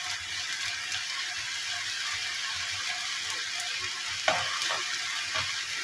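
Shrimp fried rice with scrambled egg sizzles steadily in a hot pan while being stirred, a continuous close frying hiss with a sharper scrape near the end and no voices.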